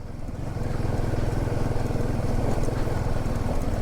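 On a narrow mountain road on the way to Chandratal, a motorcycle and a car pass close by with a steady, buzzing engine hum that holds loud and even, with no talking.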